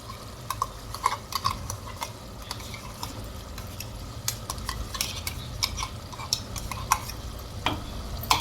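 Spoon stirring boiled, blended gongura paste into a dry fish curry in a pan, with steady soft scraping and light clinks of utensil against metal over a low continuous sizzle, close by and without talk.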